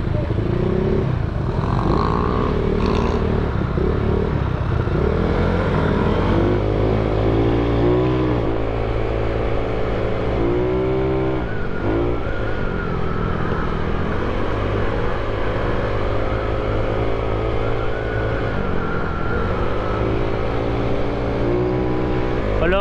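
Motorcycle engine running and revving on a road ride just after repairs, a steady loud drone with shifting pitch as it accelerates, continuous throughout and close to the microphone.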